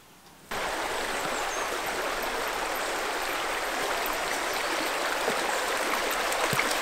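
Stream on the River Dart at Dartmeet, Dartmoor, rushes over rocks in a steady, loud, close wash of flowing water that starts abruptly and continues unbroken without voices.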